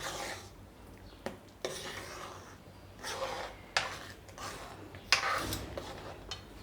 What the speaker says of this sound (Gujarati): હવે એને હલાવી નાખીશું આપણે એટલે ગોળ ઓગળી જશે